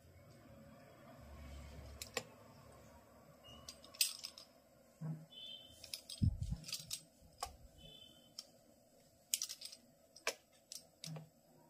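Knife cutting rolled wheat flour dough for shankarpali on a board, a scattered series of soft taps and clicks at close range in a quiet kitchen.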